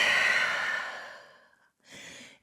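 Deep breath during a vinyasa yoga session: a long, close, breathy exhale that fades out, a short pause, then a shorter inhale through the nose.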